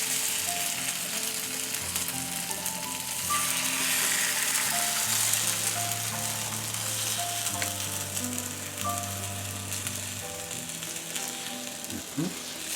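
A pan heated on high with a little coconut oil sizzles with a steady, bright hiss that runs continuously throughout, with faint tonal hum and scraping clicks mixed in beneath.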